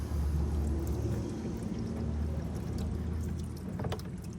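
Engine oil pours and splashes out of a 2022 Can-Am Ryker 900 during its first oil change, a continuous low, bubbling gush with faint trickling, close by and with no talk over it.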